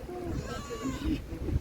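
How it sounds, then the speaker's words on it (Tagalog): A stray cat meows at a fishing spot in Ajman, giving one drawn-out, wavering cry at close range over rough outdoor background noise. "May ligaw na pusa."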